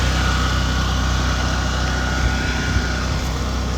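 An 8.5 kW off-grid generator idles with no load outdoors in the rain, giving a steady, unbroken engine drone with a low rumble. It holds constant in level throughout and no one speaks.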